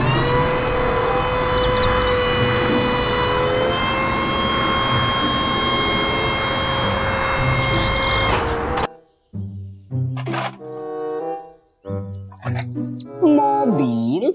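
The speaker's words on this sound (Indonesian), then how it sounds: "Mobil truk tangga." Toy ladder fire truck giving off a loud, steady electronic siren-like drone with sustained tones for about nine seconds, then short bursts of bright toy sound effects and beeps.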